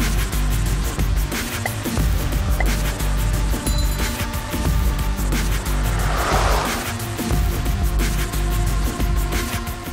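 A 2021 Dacia Spring electric car drives along, heard from inside as a loud continuous low rumble of road and cabin noise with faint clinks and a brief hissy swell midway; no talking.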